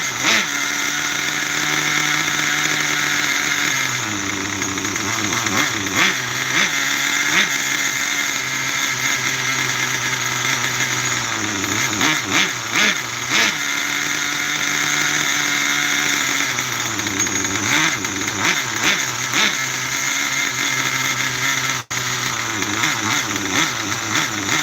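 A rich-running Big Red motorcycle engine during break-in revs up and drops back again and again over a steady idle, loud and close with no talk.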